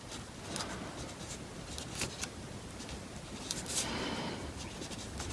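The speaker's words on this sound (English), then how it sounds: "And then I'm going to write you are," A pen writes letters onto paper while making an easy origami shirt, soft continuous scratching strokes close up with a few small taps, no talking.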